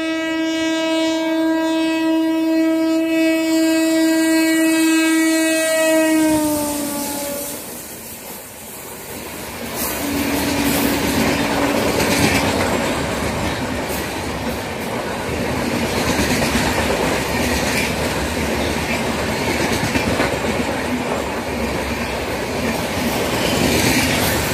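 A train horn blares for several seconds, then a train rumbles past at Uthamar Kovil with rhythmic clattering wheels that stay loud and close for a long stretch.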